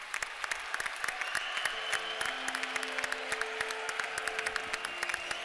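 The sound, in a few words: applause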